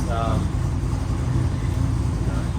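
A Holden HJ wagon in a shed, its engine idling in a steady, loud, low rumble that runs unbroken throughout, with a voice briefly over it near the start.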